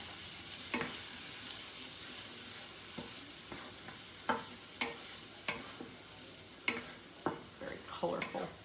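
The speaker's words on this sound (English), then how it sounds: "I just want to saute these until those onions are a little more translucent" Onions with frozen carrots and peas sauté in a skillet, a soft continuous sizzle broken by several sharp scraping stirs and utensil knocks, quiet and close, no talking.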